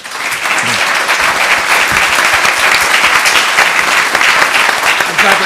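Audience at a legislative preview panel event clapping, loud, close and continuous applause from a crowd that holds steady throughout.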